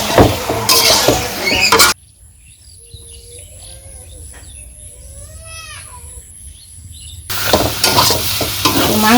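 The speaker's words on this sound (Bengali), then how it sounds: "মাংসটা দিয়ে দিচ্ছি এখন ভালো করে কষিয়ে নেই" Chicken pieces hit a pan of cooked-down spices for a village-style chicken curry and are stir-fried with loud, crackling sizzling and stirring. A quieter stretch in the middle lets nearby birds chirp through before the frying noise returns.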